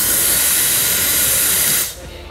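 A GAMA IQ blow dryer runs with a loud, steady airy hiss and a thin turbine whistle, close by, before cutting off abruptly near the end.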